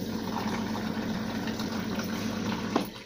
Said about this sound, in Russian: Так, ну и просто из термоса заливаю водой.